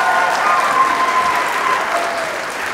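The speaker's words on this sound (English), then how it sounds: "Let's give another round of applause for Roxanne" An audience at a high school choir concert applauds for a performer: dense, sustained clapping from a large crowd, loud and steady throughout.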